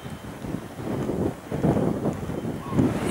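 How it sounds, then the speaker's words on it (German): Wind gusts across a small harbour near a lighthouse at Andenes in Norway's Lofoten region, a steady broadband rush with low buffeting swells that rise and fall over a few seconds, close to the microphone. "Jetzt kommt gerade der Wind"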